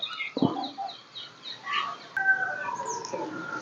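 Birds call around Udayagiri Fort in short, overlapping chirps and clucking, fowl-like notes, close and clear, with a longer whistled call near the end and no talking.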